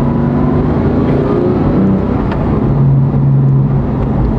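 A Porsche 991.2 GT3 engine hums in a steady, loud drone from close by, holding a fairly even pitch without clear rev bursts, alone and without voices.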